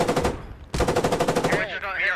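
Machine gun fire in the military video game Squad, rapid repeated bursts in two strings of loud, close shots, the second longer and fading into a trailing echo.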